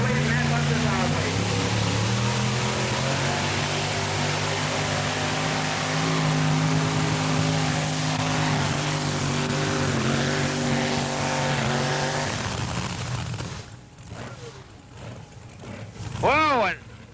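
A 2wd pulling truck roars loud and steady at an Arcola truck pull in 1991, then the engine note breaks up and fades with apparent ignition trouble near the end, under crowd noise and an announcer's voice.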